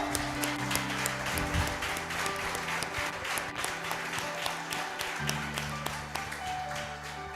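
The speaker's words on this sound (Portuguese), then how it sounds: "Você pode aplaudir o Senhor?" Church congregation applauding the Lord, crisp rhythmic clapping from many people over sustained low keyboard chords, continuous and fairly close.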